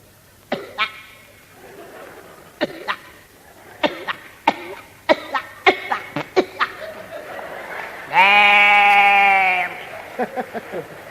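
A human voice imitating a coughing sheep: a series of sharp, spaced cough-like bursts, then a sustained bleating cry, followed by more short coughs, close and alone.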